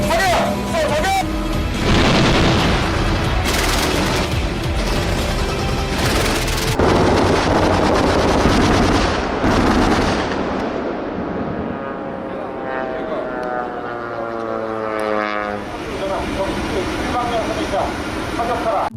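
A self-propelled anti-aircraft gun fires in loud, booming bursts amid heavy rumbling noise, with voices calling out over and between the blasts.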